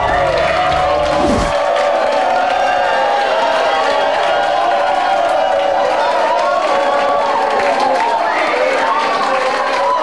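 About 300 Spanish and Filipino football fans gathered at the Instituto Cervantes in Manila roar and cheer as Spain wins the World Cup, a loud, continuous crowd din of shouts and whoops, with a brief low thump at the start.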